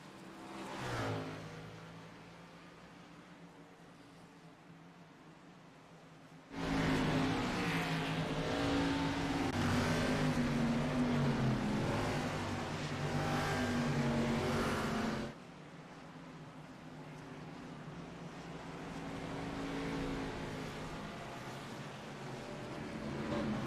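Race cars at Bristol Motor Speedway rolling behind the pace car, a low engine rumble that swells into a loud, dense roar of many motors for several seconds, then drops back to a quieter idling drone.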